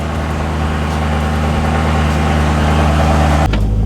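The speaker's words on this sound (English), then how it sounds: "Car takes forever to warm up." A parked car idles while warming up, a steady low engine drone with a constant hum throughout, shifting abruptly in tone just before the end.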